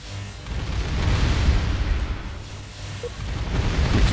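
Railgun barrages striking a spaceport in the space strategy game Distant Worlds Universe, a continuous loud rumbling roar of impacts and explosions that swells and dips in waves.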